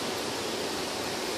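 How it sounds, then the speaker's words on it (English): Bangata Waterfalls on Mount Meru roars as a steady, even broadband rush of falling water, heard from a distance without voices. "Beautiful day at Bangata Waterfalls up Mount Meru."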